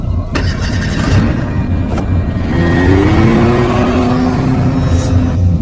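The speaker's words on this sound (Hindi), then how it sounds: "मैंने फिर से कोशिश की और भगवान का नाम लिया, लेकिन इस बार ट्रक स्टार्ट हो गया।" A truck engine turns over and settles into a loud, steady rumbling idle that fills the whole stretch, close and alone with no talk.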